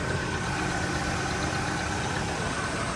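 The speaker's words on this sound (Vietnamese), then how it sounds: "máy nổ nè" A Chevrolet Cruze from the 2011–2017 generation idles at close range, a steady, even engine hum with a faint mechanical tick running unbroken throughout, no voices over it.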